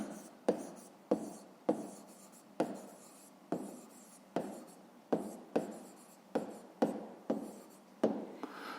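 A pen writes an answer on paper during a fifth-grade maths exercise, a steady run of about a dozen short, scratchy strokes, close and fairly quiet, with no talking.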